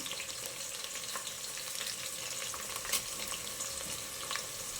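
Onions and dried red chillies frying in hot oil for radish sambar, a steady close sizzle with small crackles and occasional stirring clicks throughout, no talking.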